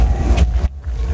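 Vespa mopeds buzzing past at a beach in Mykonos, a loud close rumbling engine drone that swells and then drops away abruptly within about a second.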